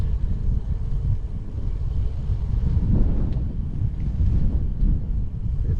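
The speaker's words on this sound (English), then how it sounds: "It's windy, but it's a really nice breeze." Wind buffets the microphone during a bike ride in Wenzhou, China, a loud, close, continuous low roar that swells and eases in gusts, with no talking.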